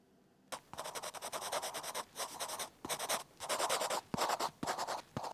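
A pencil shades on paper while a forest is being drawn, a close, dry scratching that comes in quick bursts of strokes with short pauses and occasional taps.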